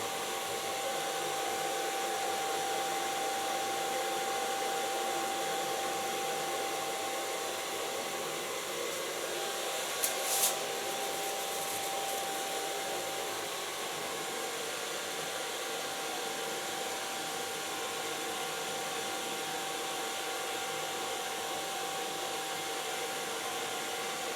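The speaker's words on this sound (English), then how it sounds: "Blow drying of this hair I do with the use of my fingers because it's a short hairstyle." A hair dryer blows continuously on short hair being styled with fingers, a steady close whoosh for the whole stretch with one brief click partway through; no talking.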